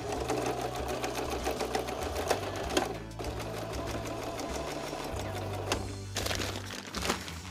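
A sewing machine stitches a strap onto a tarp bag in bursts of rapid mechanical whirring, loud and close, with short pauses between runs and no talking.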